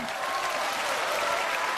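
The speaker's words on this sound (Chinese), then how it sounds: "热烈的掌声送给我们的十二位老板。" Steady, dense studio audience applause on a Chinese TV job-recruitment show in Tianjin, a continuous wash of clapping at even loudness with no voices over it.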